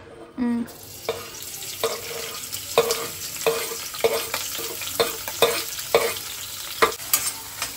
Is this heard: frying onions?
yes